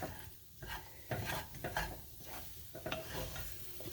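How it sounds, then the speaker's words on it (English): Cheese sauce is stirred in a pot, a spoon scraping and swishing in uneven strokes over a faint simmering sizzle, close and moderately quiet with no talk. "Stir that up. Mix it well."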